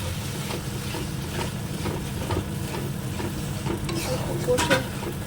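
Fish masala with yogurt is stirred in a sizzling pan, a steady near frying hiss with repeated scraping strokes of a spoon and no talking.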